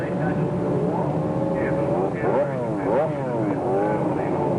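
A large field of superbike racing motorcycles pulls away from the grid at Phillip Island in the 1989 ARRC race, engines revving and whining in rising and falling sweeps under steady commentary.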